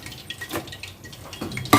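Fried chicken pieces for Chinese chilli chicken get stirred into gravy in a pan, giving a few scattered wet scraping and clinking knocks of a utensil against metal, close and fairly quiet, ending in a louder scrape.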